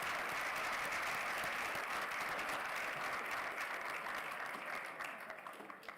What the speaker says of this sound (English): Let's give another round of applause for all the award recipients here today.